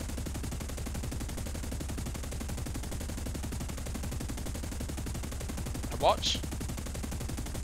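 Aircraft machine guns and cannons fire in the War Thunder air battles game, as a dense continuous rattle of rapid bursts under a steady engine drone, with a brief louder burst near the end and a short spoken phrase.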